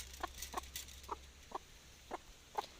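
Backyard flock of chickens clucking softly nearby, a series of six evenly spaced short clucks against a quiet background, with no talking.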